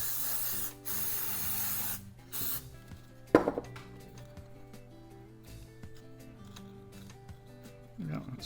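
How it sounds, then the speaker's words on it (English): Aerosol brake cleaner hisses in a strong burst over the front brake of a Kawasaki KLX 110 dirt bike, a sustained spray at the start with a few shorter bursts and faint mechanical clicks after. "Hose the whole thing down with some brake clean."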